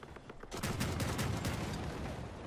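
Artillery gunfire in the vehicle combat game Crossout, fired from a massive spider-legged build with dual artillery: a dense, loud barrage of rapid booming shots sustained for about two seconds after a quieter start.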